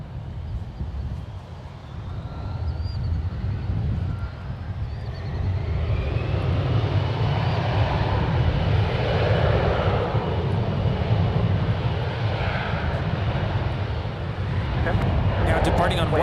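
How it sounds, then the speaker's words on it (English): An Alaska SkyWest Embraer E175 LR takes off from runway 1 Left at San Francisco International Airport, its jet engines a loud, steady roar that swells and holds for the full run, with no voices. "this is Alaska SkyWest Flight 3433, departing to Los Angeles. It's a 7-year-old Embraer E175 LR."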